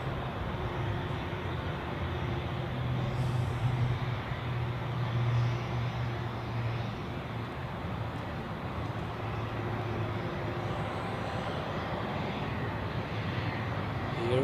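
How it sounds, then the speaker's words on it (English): An Edelweiss Airbus A350 from Vancouver arriving at Zurich Airport makes a steady, continuous jet roar that holds at an even, moderate level throughout, with no pauses. "next up the Edelweiss Airbus A350 from Vancouver"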